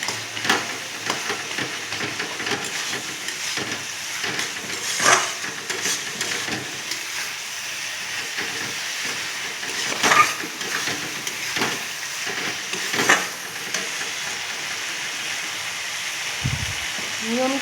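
Spices and a fish head fry in a pan for a cabbage curry with a soft continuous sizzle. Occasional louder stirring scrapes and knocks break through the sizzle, with some background voice sound.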